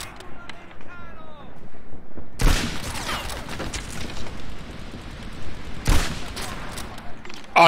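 Gunfire in the Medal of Honor Airborne video game: two loud, sharp bursts a few seconds apart break through a steady bed of battle noise and scattered shots, with someone talking over the action.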